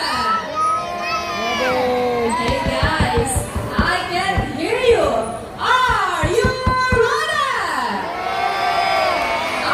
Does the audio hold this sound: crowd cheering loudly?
yes